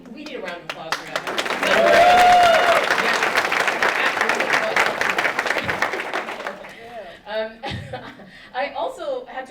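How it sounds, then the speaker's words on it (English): An audience breaks into a full round of applause mixed with chuckles and laughter, loud and dense at first, then thinning out as talk and scattered voices take over near the end. "We need a round of applause for that."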